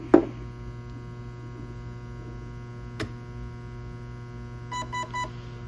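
A short burst of electronic beeps, three quick tones in a row, from a Specna Arms SA-E07 Edge 2.0 airsoft electric gun, over a steady electrical hum, with a sharp click earlier.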